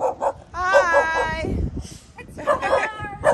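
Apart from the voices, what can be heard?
puppy barking and whimpering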